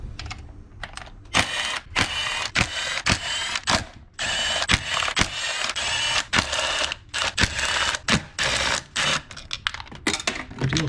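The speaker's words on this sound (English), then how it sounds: "Now I gotta undo all these 10 millimeters to remove the coil." A ratchet undoes the 10 mm bolts holding an ignition coil during valve cover gasket work on a car engine, giving dense bursts of quick, close clicking with short pauses between runs.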